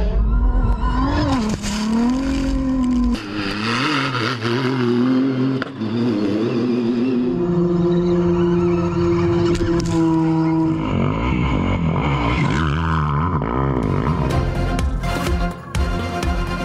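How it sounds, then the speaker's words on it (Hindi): Rally cars and motorcycles race across sandy desert in the Saudi Arabian stage of the Dakar Rally, engines revving up and down with shifting pitch and tyres skidding, loud and continuous, with occasional voices. "रेतीले ट्रैक पर कमाल ड्राइविंग।"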